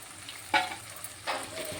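Boiled broad beans tipped into a pan of hot frying oil for a bean and tomato curry, two bursts of sizzle over a low steady crackle, close by with no talk.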